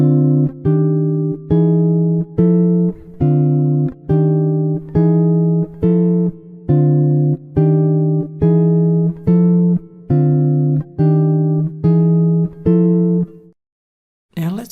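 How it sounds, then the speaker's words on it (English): Jazz guitar playing walking chords, a repeated pattern of evenly spaced, sustained chords, loud and clear, ending in a short silence. "I'll play the example 4 times."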